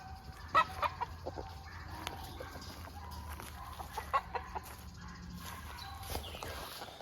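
Several roosters cluck and call around a farmyard, with short sharp squawks scattered over a steady low background, moderately distant and fairly quiet.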